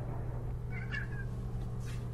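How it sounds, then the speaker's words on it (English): A cat meows once in a short, clear call midway through, with a faint second mew toward the end, heard over a steady low hum and no talking. "That's a cat."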